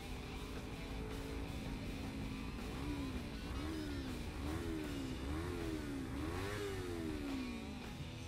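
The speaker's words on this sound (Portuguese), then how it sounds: "o barulho desse escape tá muito bom, velho" A car fitted with a G-Escape aftermarket exhaust revs repeatedly, its engine note rising and falling in rhythmic swells over a steady idle, loud and close with no talking.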